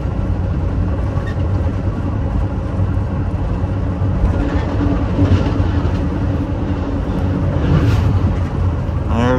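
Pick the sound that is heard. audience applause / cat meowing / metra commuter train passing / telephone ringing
metra commuter train passing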